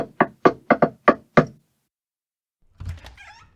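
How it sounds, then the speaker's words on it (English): Six sharp knocks on a ramshackle door in a coded rhythm, two quick pairs and then single raps, close and clear, followed after a pause by a low rustle and faint muffled sounds. "Making sure he's not seen, Falk knocks with a coded rhythm on the ramshackle door."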